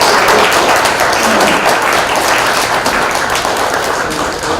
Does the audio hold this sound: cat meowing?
no